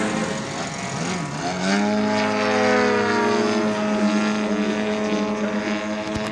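A radio-controlled model aircraft, a ProBuild 3D display plane, flies at a Wings and Wheels air show, its propeller engine droning steadily and loudly with a rising and falling pitch as it manoeuvres nearby.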